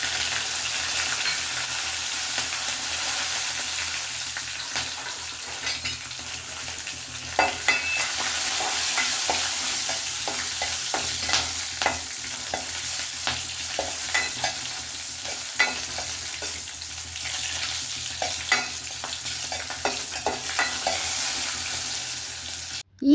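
Cumin seeds and green chillies fry in hot oil in a pan, giving a steady close sizzle with repeated scraping stirs and small clinks of the spoon throughout.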